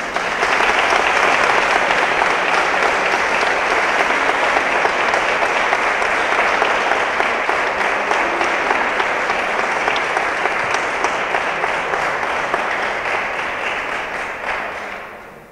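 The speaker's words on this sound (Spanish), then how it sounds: "queremos darle un fuerte aplauso" Enthusiastic crowd applause for a musical band on its 40th anniversary, a loud, dense and unbroken roar of clapping lasting about fifteen seconds before tapering off at the end.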